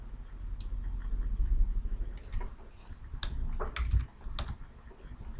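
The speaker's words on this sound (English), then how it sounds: "To make small movements, I can use the keyboard for left," Computer keyboard keys tapped a few times to nudge a selection in Photoshop, giving sparse, light clicks spread unevenly over a low background hum, fairly close with no voices.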